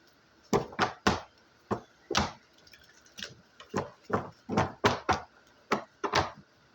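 Tarot card deck being shuffled by hand: a series of crisp, close card snaps and riffles in an irregular rhythm, with no voices.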